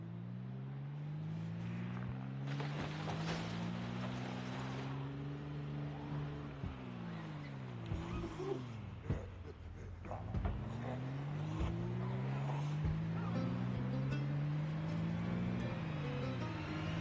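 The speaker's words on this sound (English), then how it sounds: "Let's just use the sound of the engine to bring some of them out here." A car engine idles and revs in the Project Zomboid video game, a steady droning hum rising and falling in pitch as the throttle changes, with faint background clatter and no talking.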